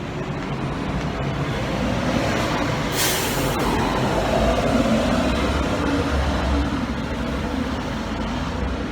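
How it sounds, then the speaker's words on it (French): A loud, rumbling heavy vehicle engine roars continuously, with a brief sharp hiss of air brakes partway through. "Je tombe toujours sur le bus qui fait un bruit de ouf"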